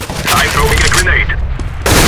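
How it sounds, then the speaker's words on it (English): A close, loud burst of gunfire and explosive cracks from a Counter-Strike: Global Offensive match, dense and continuous for about a second before a brief lull and another sharp blast, with a voice speaking over the action. "I'm throwing a grenade."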